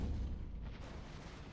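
A dull artillery barrage rumbles from the card game Kards, a steady, low, booming roll that fills the short moment without any voices.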